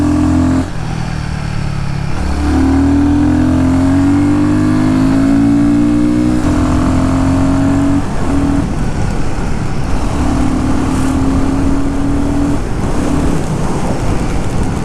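Royal Enfield Guerrilla 450 single-cylinder motorcycle revs hard and climbs through gears, a loud, steady engine drone rising in pitch, dipping briefly, then holding high revs close by with no voices.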